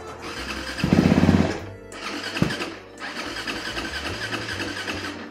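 A cold French Sherco race motorcycle cranks and fires into life with a loud, rough rasp, then revs and settles into a lumpy warming idle, close by with no talking.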